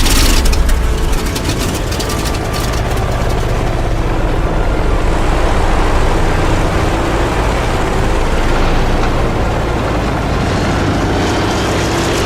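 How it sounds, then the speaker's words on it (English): A World War II aircraft engine roars loudly and continuously at close range, a dense low rumble with the rhythmic thump of the propeller running steadily throughout. "we would use specialized mics to record things like the rumble of the engine, the thump of the propeller"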